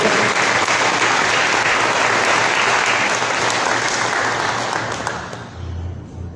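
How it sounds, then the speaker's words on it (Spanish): Loud, dense applause from a congregation during a Spanish-language Sunday church service, a thick wash of clapping that holds steady before tapering off at the end. "Denle un aplauso al Señor."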